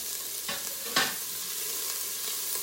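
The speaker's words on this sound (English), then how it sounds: "we're going to put the onions in, just like this" One cup of onions sizzles in an Instant Pot pot while being stirred, with a soft, steady frying hiss and two sharper scraping strokes early on; no one speaks.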